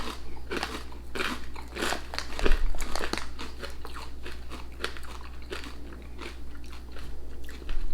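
Chili and lime crisps are bitten and chewed close to the mic, with a run of crisp crunches and crackles coming in irregular bursts, one heavier bite standing out near the middle.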